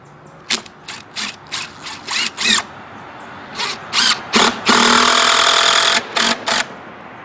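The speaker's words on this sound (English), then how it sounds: "galvanized screws. I think these are 3-inch, and they have a cordless drill" A cordless drill drives 3-inch galvanized Torx screws into a raised vegetable bed, whirring in a run of short bursts, then one longer sustained drive and a couple more quick pulses, close and loud.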